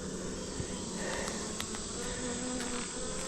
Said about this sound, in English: A little cluster of bees here.